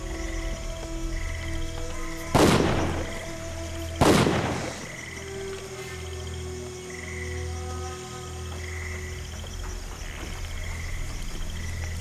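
Two heavy cannon blasts boom a couple of seconds apart in Dungeon Siege 3, each loud and sharp with a short decay, over a steady ambience of croaking frogs.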